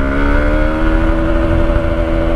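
A 2023 Hero Xpulse 200 4V motorcycle engine drones loudly and steadily at high revs, with a rising tonal whine during a top speed run.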